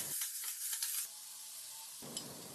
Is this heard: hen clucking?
no